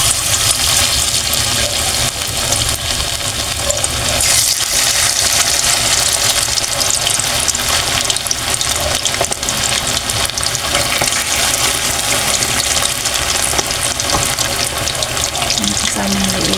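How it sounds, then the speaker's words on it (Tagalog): Chicken pieces fry in hot cooking oil with a loud, steady, dense sizzle and crackle that continues throughout without a break. "Magprito na tayo. So, mainit na yung ating mantika."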